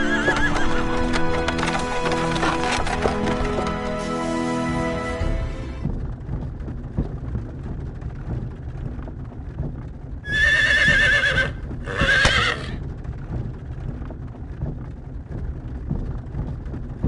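A horse-drawn wagon setting off in Star Ocean: Till the End of Time, with steady clip-clop of hooves and rolling wheels throughout, and two loud neighs breaking in partway through.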